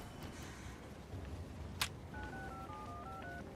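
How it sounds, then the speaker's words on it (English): Phone keypad tones dialing a number in a video game, a run of short steady beeps stepping between pitches after a brief click, set over a constant low background rumble. "You better start making some calls, Dan."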